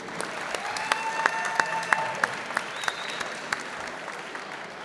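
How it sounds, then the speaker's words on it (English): An audience at BarberSociety Live gives the Black Raven barber team a sustained round of applause, a dense crowd clatter with a few sharper claps standing out and faint voices mixed in. "Give them a wonderful round of applause."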